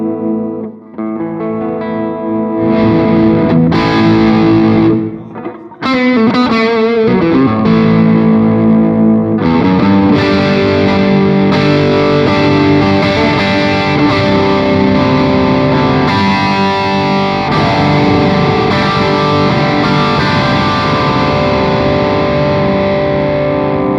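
A heavily distorted electric guitar with a spruce body, a Maybury Strat- or Tele-style, plays alone, loud chords ringing out with long sustain after a brief pause early on.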